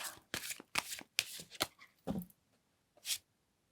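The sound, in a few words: tarot cards being shuffled and drawn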